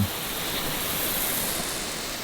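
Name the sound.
sprinkler water spraying onto bluegrass lawn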